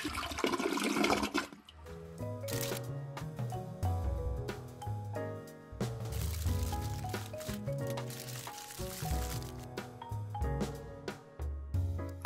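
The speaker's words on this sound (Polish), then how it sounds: "Wodę też spuszczę cicho." A toilet flushes in a home early in the morning, a loud rushing whoosh of water in the first second or so, followed by light background music with no talking.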